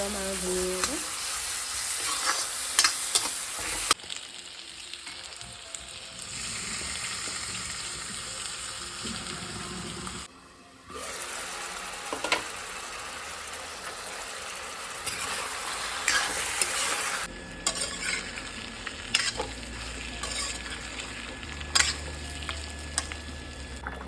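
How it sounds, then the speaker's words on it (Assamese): Spices frying in hot oil with onion and garlic in a home kitchen pan, a continuous close sizzle with intermittent stirring scrapes and a few abrupt breaks in the sound. "মছলাখিনি তেলতে ধুনীয়াকৈ ভাজি লৈছোঁ আৰু মানে পিঁয়াজ ৰচুন লগতে তেলখিনি বিৰিঙ অহালৈকে"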